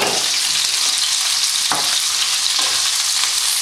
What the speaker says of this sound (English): now I'm putting the okras into it, and you simply have to fry it till it becomes brown